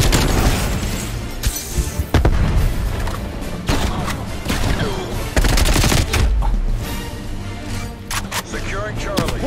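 GROZA assault rifle fire in the video game Black Ops Cold War, dense bursts of loud rapid gunshots with booming impacts throughout, mixed with game effects and a player talking over the action.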